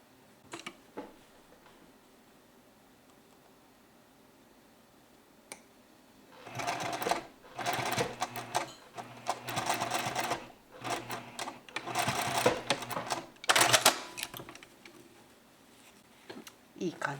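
A sewing machine stitches a rounded stand collar on a shirt in short, rapid bursts, with a few faint ticks before the loud runs begin and brief pauses between them.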